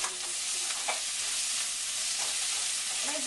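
Carrots sauté with cumin in a hot pan, a steady broad sizzle with faint scrapes of stirring now and then.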